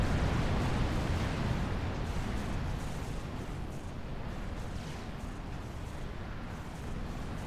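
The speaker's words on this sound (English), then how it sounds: "he manages to take down about five of those TAC missile launchers" Dense, continuous rumbling blasts from a real-time strategy battle in Supreme Commander as TAC missile launchers are destroyed, a steady barrage of overlapping explosions with no pauses.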